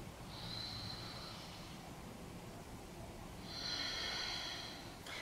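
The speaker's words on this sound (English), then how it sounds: "Another deep breath in." During a beginner yoga session a person takes a slow, deep breath, heard as two soft airy inhalations through the nose, close but quiet against a faint room hush.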